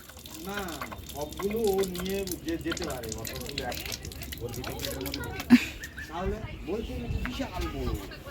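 Water runs from a tap in a steady, gushing stream beneath continuous talking in a home, with one brief clunk partway through.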